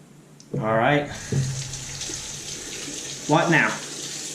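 Plain water runs steadily from a tap for rinsing a Kamisori razor hone, a continuous hiss throughout with a few short louder bursts and knocks.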